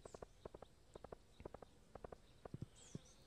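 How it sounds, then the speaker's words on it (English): Horse hooves clip-clop in the farming game Stardew Valley, quick groups of light clicks repeating steadily for a few seconds, crisp and alone. "I'm just trying to get on my horse."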